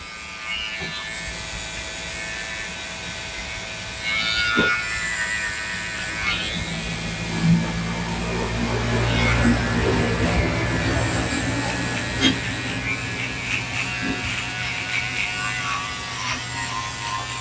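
An electric hair trimmer buzzes continuously at close range while cutting a boy's skin fade, with small clicks and shifts in tone as it moves, no talking.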